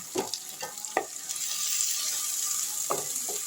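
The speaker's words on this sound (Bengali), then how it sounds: "এইভাবে আমি মশলাটা আরও দু মিনিট কষিয়ে নিচ্ছি" Spice paste with whole coriander and Kashmiri chilli is being fried for a rohu fish curry. A steady hiss of sizzling runs underneath, and about half a dozen short scraping stirs cut through it, close by and without speech.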